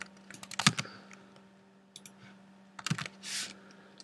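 Keys clatter on a computer keyboard on a Mac in quick bursts of clicks, separated by short pauses, close and fairly quiet.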